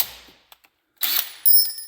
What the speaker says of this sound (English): So we just popped the 3/8 hole there so it'll fit the bolt.